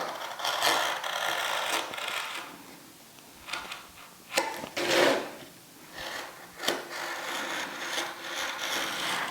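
A knife scrapes and rubs against a wooden frame to remove canvas, making repeated close rasping and sawing strokes in uneven bursts, with a few sharper knocks between them.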